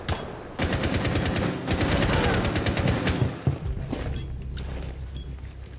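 Rapid automatic gunfire from hip-firing in the video game Rainbow Six Siege on a skyscraper map, several dense bursts of shots with clattering mechanical noise, loud and close.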